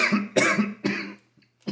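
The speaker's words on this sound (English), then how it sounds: "allowing me to cough when I need to" Three harsh, close coughs in quick succession from a person with stage 4 cancer, followed by a brief pause and the start of another.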